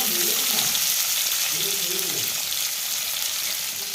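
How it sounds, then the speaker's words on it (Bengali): Prawns frying in a home kitchen pan, a loud steady sizzle filling the whole clip with no talk over it. "এখন চিংড়ি মাছ ভাজা হচ্ছে"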